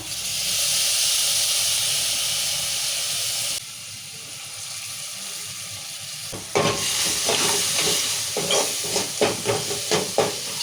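Tempering for lemon pulihora fries in a pan with a loud steady sizzle and hiss that drops away, then turns into sharp crackling pops and spatters as the spices are stirred.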